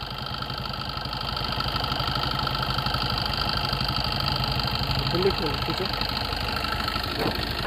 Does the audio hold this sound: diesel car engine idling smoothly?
yes